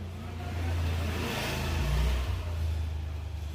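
A Royal Enfield Himalayan motorcycle ridden just after a rear brake repair, its engine rumbling steadily and revving up and down as it passes close by, with no talking.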